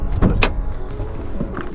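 Hood of a Hummer H2 with an LBZ Duramax swap being lifted: a loud, close clunk followed by a short mechanical whir and rattle, with no talk.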